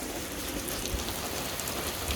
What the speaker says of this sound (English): it's rain, but on my camera?